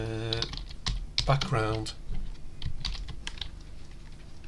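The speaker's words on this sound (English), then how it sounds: "in our setup function here, I'm just going to type in" Rapid, close clicks of code being typed on a computer keyboard run beneath a man's speech.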